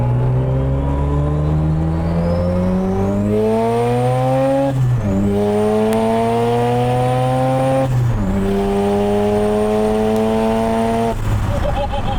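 A widebody Mazda RX-7 engine revs repeatedly to high pitch near redline, climbing steadily and dropping back at each shift, three strong pulls in a row.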